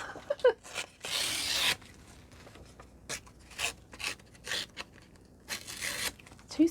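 Paper page being ripped from a B6 Stalogy notebook in several rough, uneven tearing strokes, one long rip followed by shorter tugs and rustles, close and fairly quiet.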